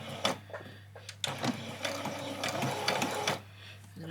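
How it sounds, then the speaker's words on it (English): A sewing machine runs a back stitch while an apron is being made, a steady close mechanical whir of about two seconds with brief start-stop bursts around it, heard alone. "I'm going to turn the machine on, I'm going to go on, I'm going to do a back stitch"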